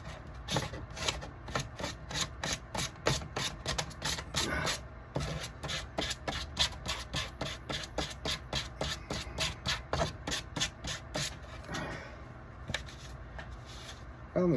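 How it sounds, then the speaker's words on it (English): Wood is sanded by hand in a steady, rhythmic run of rasping strokes, each one close and distinct, with a brief pause near the end. "you're just sanding the whole damn thing down"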